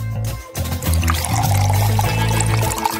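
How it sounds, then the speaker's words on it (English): Milk poured from above onto a hollow chocolate ball filled with marshmallows, a steady close pour lasting about three seconds with a brief dip near the start. "Probably you need to pour milk on it."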